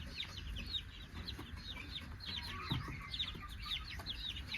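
Chickens on a desi poultry farm in Jammu cluck repeatedly in a quiet, steady chorus, the calls scattered and fairly distant over a low background rumble.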